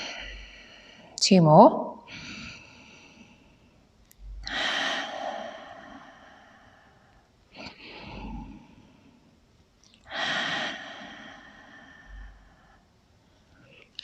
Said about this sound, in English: inhale, and exhale, inhale, and exhale.